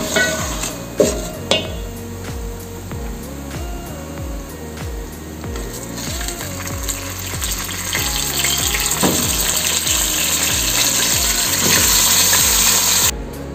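Soya chaap pieces sizzling and being stirred in a pressure cooker while browning for a spicy handi, with a steady frying hiss, scraping spoon strokes and occasional metal clinks throughout.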